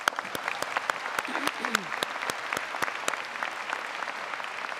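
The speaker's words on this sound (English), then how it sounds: "please join me in giving them a big round of applause" At a university graduation ceremony the crowd applauds staff with a full, continuous spread of clapping, moderately loud and steady, with a brief cheer or voice rising faintly in the middle.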